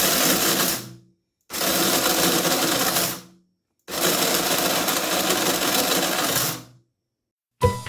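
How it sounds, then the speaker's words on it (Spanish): An electric grinder mills black acacia seeds into flour in loud, harsh whirring bursts, three long runs with short silent gaps between them and a brief restart at the end. "Colocamos una buena cantidad de semillas. Tapamos y a moler."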